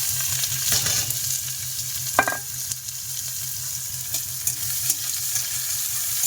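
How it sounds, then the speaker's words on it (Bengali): Chopped onions and garlic fry in hot oil in a home kitchen, giving a steady, close crackling sizzle with a soft rhythmic low pulsing beneath it and a few brief clicks from stirring. "পেঁয়াজগুলো লাল লাল করে ভাজে নিচ্ছে খুব সুন্দর করে"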